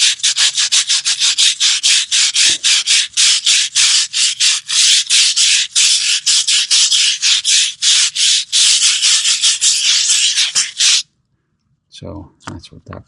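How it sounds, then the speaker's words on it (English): Concrete being scrubbed with a brush to lift paint residue: a fast, steady run of loud, rasping back-and-forth strokes for about eleven seconds, then a pause and a few scattered scuffs and knocks. "Scrub this down."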